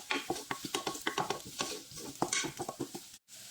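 Onions frying in oil in a pan for pastulla beans, with rapid, irregular stirring scrapes and taps over a soft sizzle, close by, ending in a brief silence.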